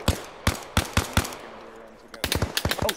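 Rapid bursts of automatic gunfire from the video game Arma Reforger, close and loud, laying down covering fire in sharp clustered volleys separated by brief pauses, with a denser flurry of shots toward the end.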